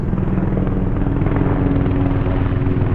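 A medical helicopter's rotor thumps steadily overhead, a loud, continuous chopping drone with a low engine hum and no voices.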